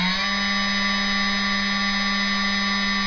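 Chinese CNC spindle running steadily at 12,000 RPM, a loud continuous high-pitched whine with a strong steady tone and no talking.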